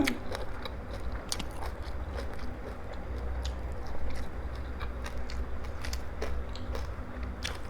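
Crunchy chewing of crispy pork cheek eaten with spicy papaya salad, close-up rapid crackling bites repeating steadily over several seconds with no talk.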